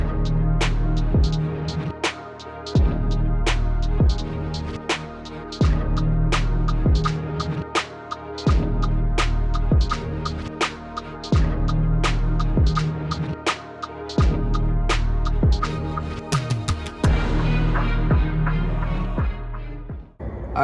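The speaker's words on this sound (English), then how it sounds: "So time to wire wheel it." Wire wheel scrubbing old car parts, a steady loud grinding drone broken by regular sharp scraping hits every second or so, continuous and close with no talking.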